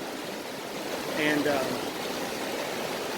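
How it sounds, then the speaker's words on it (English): A fast-running outdoor stream rushes in a steady, broad hiss close by, with a brief swell of splashing in the middle and a short spoken word from a man. "the water is running too hard"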